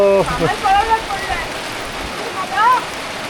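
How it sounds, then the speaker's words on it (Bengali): Rain falls on a village on a wet day, a steady soft hiss running throughout beneath a voice speaking in rising and falling tones. "আবার শুরু হয়ে গেল বৃষ্টি"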